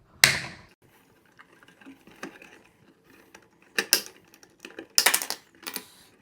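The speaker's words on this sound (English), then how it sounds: "I have more than enough wires here, so I'm just going to go ahead and cut them" Wire cutters snip through spare electrical wires on a wall outlet during a USB outlet installation, giving a handful of sharp, close clicks spread across quiet gaps, with no talking.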